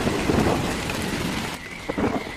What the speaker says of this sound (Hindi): कुछ ही पल में बिजली कड़की और उसके साथ ही झमाझम बारिश शुरू हो गई।